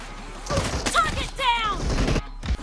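Gunfire in PUBG Mobile's 2v2 Gun Game mode, a few rapid sharp shots and thuds mixed beneath someone talking over them, fairly close and loud.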